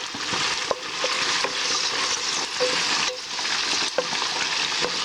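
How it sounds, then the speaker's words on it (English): Onions frying in a pot as the base for a fried chicken stew give off a steady, dense sizzle, broken by occasional sharp clicks and scrapes of stirring. "You have your onions. You're gonna let that cook up for a while."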